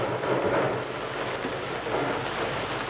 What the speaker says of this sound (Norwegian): Og sånn som det regner, da. Rene skybruddet.